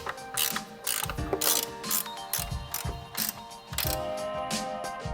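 A ratchet wrench with a 10mm socket tightens screws on a switch bracket for a Jeep Wrangler JL or Gladiator JT, giving close, loud bursts of rapid clicking in several separate runs with short pauses between them.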